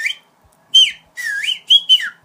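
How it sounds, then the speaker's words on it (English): A person whistles in short, loud, sliding notes close by, a handful of rising and falling chirps with brief gaps between them, practiced in a school corridor. "I would just go to the corridor and I would train my whistling"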